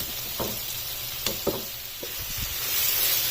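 Mutton and vegetables sizzle in a hot pan, a steady frying hiss broken by a few sharp spatters and the scrape of stirring.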